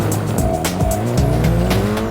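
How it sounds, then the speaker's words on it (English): Rally car at the 2016 Sharjah Rally with tires squealing in repeated bursts over a steady engine drone, loud and close, no voices. "The experienced Sala, driving a car that he has not competed in for many seasons, pulls out all the stops."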